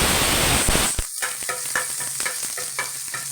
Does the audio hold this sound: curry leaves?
yes